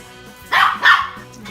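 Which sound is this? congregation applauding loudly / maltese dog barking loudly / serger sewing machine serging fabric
maltese dog barking loudly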